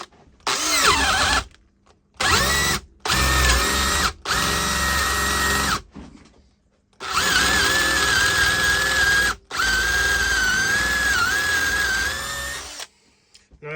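Makita DDA351 cordless angle drill boring into soft, stringy wood, running in several loud bursts of whining motor that repeatedly stop short as the tool cuts out, with brief silences between.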